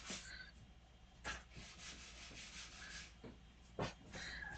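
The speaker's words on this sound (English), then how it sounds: "Here's me using my sandpaper to get the screw tip ready to be blued." Sandpaper rubs against the tip of a small screw in short, close scratchy strokes, a quiet rasping repeated in uneven bursts.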